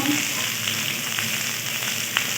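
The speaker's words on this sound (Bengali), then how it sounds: "এর মধ্যে দেবো কুচিয়ে নেওয়া বরবটি পটল বেগুন" Chopped yardlong beans, pointed gourd and eggplant fry in a village kitchen pan, giving a steady, close sizzle with a few faint clicks of stirring.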